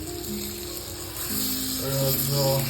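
Chopped tomatoes go into spice masala frying in oil on a gas stove for sprout curry, giving a steady close sizzle, with tonal background music running throughout.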